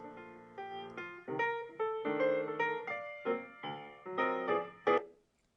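A cheerful musical jingle with bright, stepping notes plays for several seconds, then cuts off suddenly into silence.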